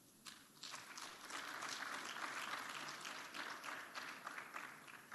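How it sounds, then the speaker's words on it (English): Applause from the audience at a university capital markets challenge awarding ceremony, a soft, distant-sounding patter of many hands clapping steadily before fading slightly. "Let's give them a round of applause to thank them."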